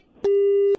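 A single loud, clean telephone busy-signal beep sounds after a call is hung up on a radio show. It is one steady tone about half a second long, bracketed by clicks, with no voices.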